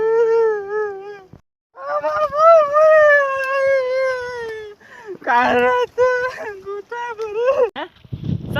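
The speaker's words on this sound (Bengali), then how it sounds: "কোনো কুকুর বাচ্চা কাঁদছে নাকি রে?" A puppy cries and whines in long, rising and falling wavering howls close by, outdoors, broken by short yelps, with a brief pause partway through.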